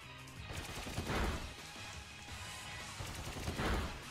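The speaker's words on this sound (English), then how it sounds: "Pin Missile's animation though" A Pin Missile attack in the Pokémon Sword & Shield video game, a faint, rapid rattle of repeated impacts swelling in two bursts over a low game backdrop.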